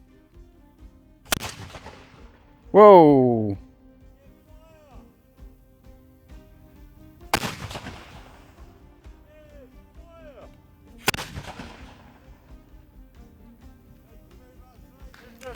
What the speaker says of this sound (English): I'm surprised how loud that wall gun was